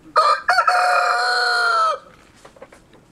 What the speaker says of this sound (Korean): 닭도 10대 마리를 키우고 있는데 기특하게도 매일매일 달걀을 낳습니다.